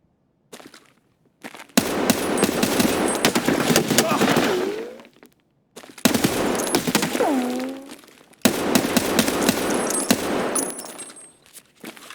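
Heavy-caliber gunfire in Escape from Tarkov on Shoreline, sounding as loud close bursts of rapid shots in three separate volleys with short silences between them.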